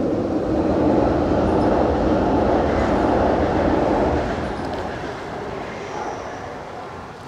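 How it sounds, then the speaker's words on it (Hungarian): A train crosses the Népsziget railway bridge in Budapest with a loud, continuous rumbling roar that holds for several seconds, then gradually fades as it moves away. "jön is egy vonat"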